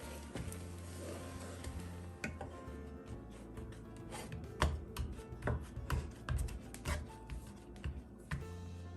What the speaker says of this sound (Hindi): और इसमें ऐड करेंगे 250 ग्राम मैदा और इसको अच्छी तरह मिक्स कर लेंगे।